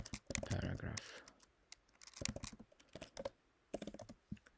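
Close computer keyboard typing while HTML code is written, irregular bursts of quiet key clicks with pauses between, and a brief voice near the start.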